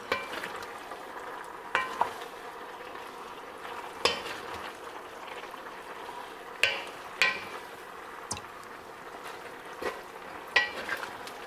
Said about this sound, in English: we're just gonna give that a stir. Keep in mind, it's on medium heat.